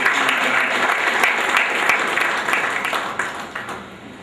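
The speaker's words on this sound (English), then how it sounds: "all of you give a good clap to him" A room full of people applauds steadily, dense clapping that holds for several seconds before thinning out toward the end.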